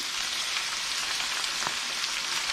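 Olives, capers and onion fry in a pan, a steady bright sizzle and crackle filling the clip at moderate level, with a faint stir or tap partway through and no voices.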